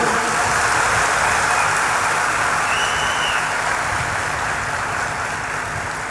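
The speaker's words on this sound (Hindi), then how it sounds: "एक बार ताली बजाओ झूम के।" An audience at a devotional gathering under a pandal claps together, making a dense, steady wash of applause that holds evenly and then fades slightly toward the end.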